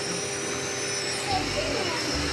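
An electric vacuum cleaner runs with a steady, continuous droning hum, with children talking close by.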